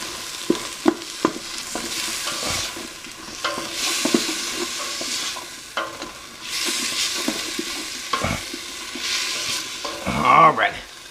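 Garlic stirred in a sizzling pot for Caribbean hambone stew, a steady frying hiss with repeated scraping knocks of the spoon against the pot, close and fairly loud, no talking.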